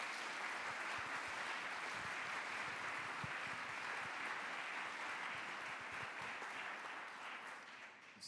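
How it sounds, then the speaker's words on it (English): A large audience applauds a panel at a passenger-industry festival session, with dense, steady clapping that fills the room and stays strong throughout before easing slightly at the very end. "can we give a huge round of applause for our panel?"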